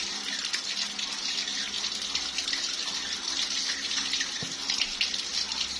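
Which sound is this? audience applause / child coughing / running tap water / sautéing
running tap water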